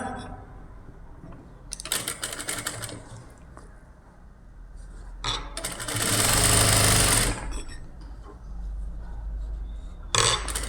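A sewing machine stitches a canvas-lined blouse neck in close, rapid mechanical bursts of whirring and clatter, with quiet pauses between runs and one long steady run in the middle.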